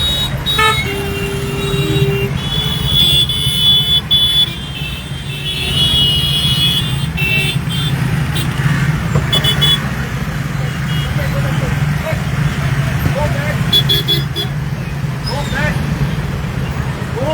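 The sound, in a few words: heavy traffic congestion at Saligao circle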